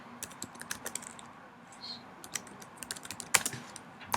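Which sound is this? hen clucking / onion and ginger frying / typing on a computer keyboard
typing on a computer keyboard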